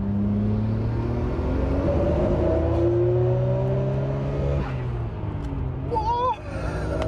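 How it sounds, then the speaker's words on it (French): Nissan Skyline GT-R R34 engine revving hard toward about 9000 rpm, a loud rising whine that climbs steadily, then drops off as the revs fall, with a brief voice near the end. "La voiture du coup monte jusqu'à quasiment 9000 tours."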